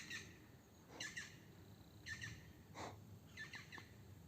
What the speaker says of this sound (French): Vous avez entendu les amis? Ça s'appelle tout simplement un oiseau.